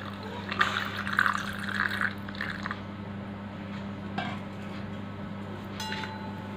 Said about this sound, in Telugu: మిల్క్ కూడా ఇందులో యాడ్ చేసుకోవాలి